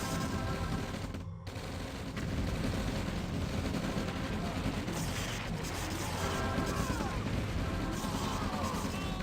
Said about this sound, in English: And now the whole army gets shredded by camo pillboxes.